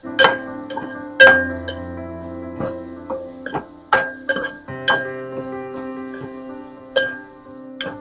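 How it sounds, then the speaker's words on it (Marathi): Cauliflower is stirred into fried onions in a metal pan, with a spatula striking the pan in repeated bright, ringing metallic clinks at an uneven rhythm, close and fairly loud, without speech. "यामध्ये नितळ ठेवलेला फ्लॉवर घालून हे संपूर्ण मिश्रण कांद्यामध्ये परतून घ्यायचं"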